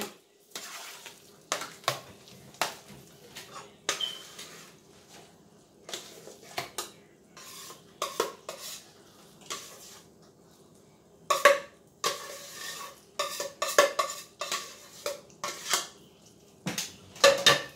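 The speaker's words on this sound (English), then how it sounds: "Just give it a stir, because it's going to melt on its own." A spoon stirs cheesy homemade mashed potatoes in a pot, with repeated scraping strokes and metallic clinks in an irregular rhythm, close and fairly quiet.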